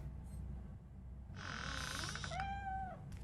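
A cat meows in the video game RoboCop: Rogue City, a single drawn-out, rising-and-falling cry near the end of the clip over a low background hum, with no talk.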